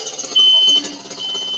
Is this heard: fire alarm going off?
yes